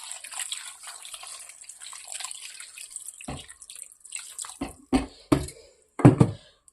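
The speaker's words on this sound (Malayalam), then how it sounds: "വെള്ളം ഒഴിച്ചു കൊടുക്കാമേ." Water is poured into a pan of pepper sardine curry, first as a continuous splashing trickle, then as a few short, louder gushes near the end.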